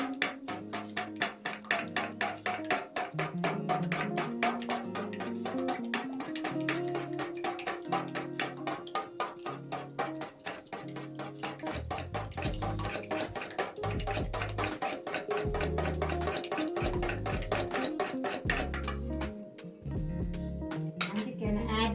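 Rapid, even metallic ticking of a whisk beating ingredients for Indian-style rice pudding in a bowl, a steady rhythm running the whole time under background music.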